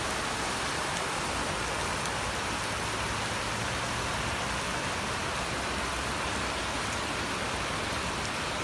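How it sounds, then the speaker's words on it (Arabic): Heavy rain pours onto a street in Saudi Arabia during a downpour with flooding, a loud, unbroken hiss filling the whole stretch with no voices. "الحمد لله، جا المطر"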